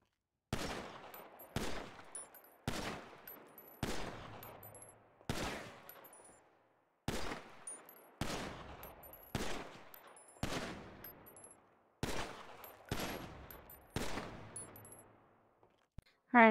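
Pistol shots at an outdoor shooting range, about fourteen sharp, loud reports fired one by one at a steady pace of roughly one per second, each followed by a short ringing decay, with quiet gaps and a short pause between groups.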